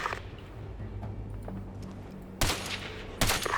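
Two loud, abrupt bursts of gunfire break through a low hum, one after the other about a second apart, in the video game Ghost Recon Advanced Warfighter 2.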